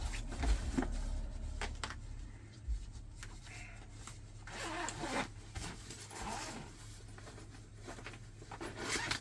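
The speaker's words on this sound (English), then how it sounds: "And that just zips back closed." A suitcase zipper being pulled closed while packing for a cruise, heard as repeated quick rasping strokes, close and fairly quiet, mixed with handling rustles and bumps.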